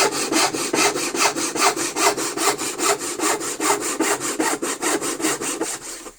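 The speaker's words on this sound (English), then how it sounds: "this saw's it's cutting nicely" A freshly re-toothed and sharpened handsaw cuts through wood in about two dozen fast, even push-and-pull strokes. Each stroke gives a crisp, close rasp, and no one talks.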